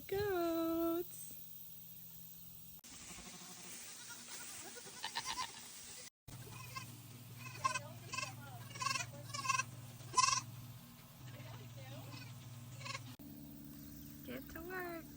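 Nigerian dwarf goats bleat in a series of short, wavering calls in an overgrown grassy yard. One louder cry opens the clip, and several fainter bleats follow over a steady background hum.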